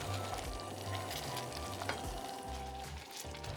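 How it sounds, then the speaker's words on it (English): Thick red bean paste for koshian stirred in a pot as it keeps boiling, with a steady close bubbling sizzle and scraping stir strokes throughout, no talk. "I keep stirring not to burn."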